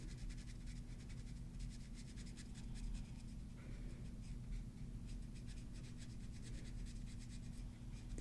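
An alcohol marker colors on toner cardstock, a continuous soft scratchy rubbing close by, with a low steady hum underneath.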